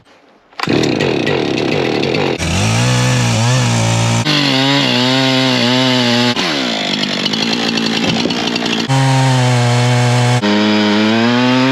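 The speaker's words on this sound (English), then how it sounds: "So we're gonna take the chainsaw, cut this off" A chainsaw roars continuously at close range, its engine pitch rising and dropping as it cuts through a wooden cabin countertop, with no pauses for nearly twelve seconds.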